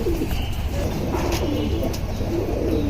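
Silver Line pigeons cooing in a loft, low rolling coos repeating steadily over a constant background hiss, moderately close with no clear speech.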